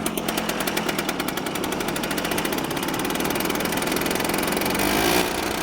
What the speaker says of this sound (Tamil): ஃபஸ்ட்டு கியருக்கே பரவாயில்லங்க ஓரளவு ஃபேன் வந்து நல்லா ஃபாஸ்ட்டாகவே சுற்ற ஆரம்பிச்சிருக்கு